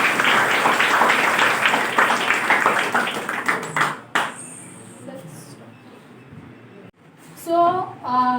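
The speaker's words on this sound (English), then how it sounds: "Just clap for her." Classroom students clap together for a classmate for about four seconds, a dense burst that trails off into quiet room sounds before a teacher's voice speaks.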